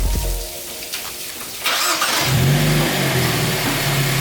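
A Hyundai Elantra N engine starts up close by, revs briefly and settles into a steady running idle, with no talking over it.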